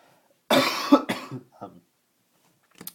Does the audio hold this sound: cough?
yes